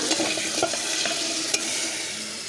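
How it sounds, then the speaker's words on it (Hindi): Beef pieces fry and get stirred through a hot masala, a steady close sizzle broken by scraping spoon strokes, with no voices. "अब मैं इसमें ये गोश्त डाल के इसको थोड़ी देर के लिए फ्राई कर लूँ।"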